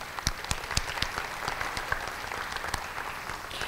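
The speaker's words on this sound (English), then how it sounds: "Can we please give them a round of applause?" Applause at a school district spelling bee as board members are introduced, with many hands clapping at a moderate distance and a few sharp claps standing out from the steady patter.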